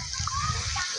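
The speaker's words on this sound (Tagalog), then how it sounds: "Ito yung dagat naman nila." Sea water splashes at a beach resort on Samal Island, Davao City, a loud, continuous wash with voices faintly underneath.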